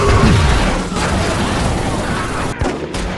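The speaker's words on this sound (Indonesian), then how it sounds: "Mobil anti peluru itu pun hancur oleh tembakan bazooka." A bazooka blast destroys a bulletproof car in the film The Forever Purge: a loud, heavy explosion with crackling bursts like gunfire, dense and noisy throughout, dipping briefly near the end.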